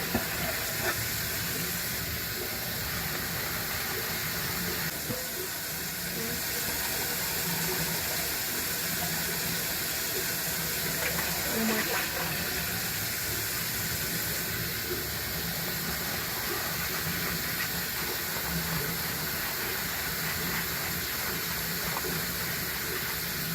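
Sushi rice rinsed under a running tap, a steady broadband wash of water splashing over grains in a bowl, continuous and fairly close with faint clicks and stirring, no voices.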